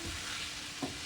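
Taco meat cooks in its leftover juices in a pan with a steady, dense sizzle that holds at one level, and a single soft utensil knock toward the end.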